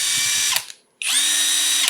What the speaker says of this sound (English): Let's put the smaller Kemosabe on there.